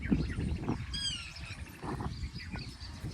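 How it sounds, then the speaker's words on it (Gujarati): Faint birds chirp and twitter now and then in a tree in a village, over soft outdoor background noise, with one brief burst of high calls. "અને પક્ષીઓ પણ જો કેવો કલબલાટ કરે છે મસ્ત."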